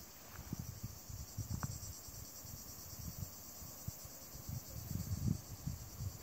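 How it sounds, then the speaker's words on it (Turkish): A steady high-pitched cricket-like trill in an Istanbul woodland, said to come from the tail of a tree-climbing snake, faint and continuous behind low rustling footsteps and handling noise. "Ağaca çıkan yılanlar var. Bunun kuyruğundan çıkan bir sestir bu."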